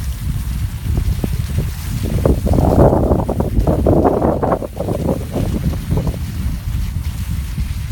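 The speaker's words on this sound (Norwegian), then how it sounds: "Vanvittig til vind." Strong wind on a mountain ski tour roars and buffets the microphone, a loud rumbling gusting that swells and eases, with water sounds in the background.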